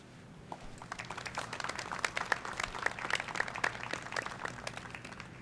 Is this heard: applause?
yes